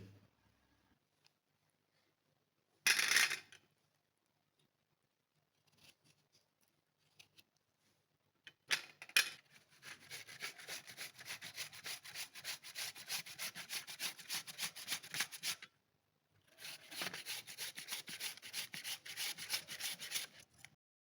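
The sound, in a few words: grating small pieces of red pumpkin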